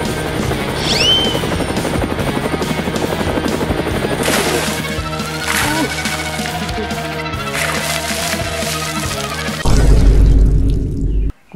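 A helicopter flies overhead with a loud, steady rotor chop that runs for most of the stretch, ending in a heavier booming burst before it cuts off. No one speaks.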